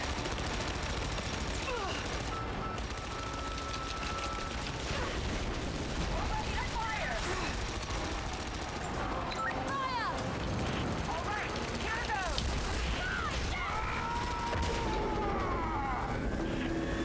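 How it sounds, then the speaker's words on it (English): Muffled gunfire from soldiers in the video game Rise of the Tomb Raider, scattered shots and bursts under a dense, continuous game soundscape with a voice talking over it. "Shooting through the barriers."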